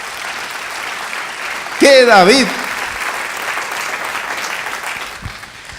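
A church congregation applauds in a sustained wash of clapping, with a man's brief exclamation rising loudly over it partway through.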